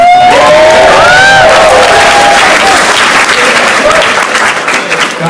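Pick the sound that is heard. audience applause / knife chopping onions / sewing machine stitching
audience applause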